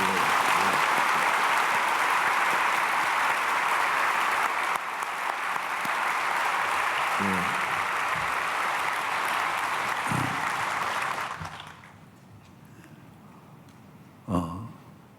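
Church congregation applauding after a sermon by a visiting pastor, a dense, sustained wash of clapping that holds steady for about eleven seconds, then stops abruptly, leaving a quiet room with a couple of faint thumps.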